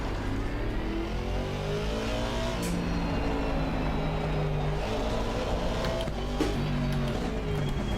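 A race car engine under throttle in Assetto Corsa Competizione, revving up and down through gear changes with rising and falling pitch, loud and steady throughout.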